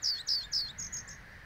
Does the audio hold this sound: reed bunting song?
yes